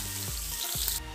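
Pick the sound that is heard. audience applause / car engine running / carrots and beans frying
carrots and beans frying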